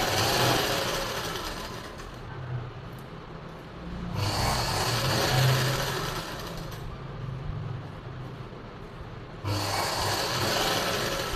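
A sewing machine stitches the neck of a silk suit in bursts, a fast whirring run, a quieter pause, then two more loud runs, close and alone with no voices.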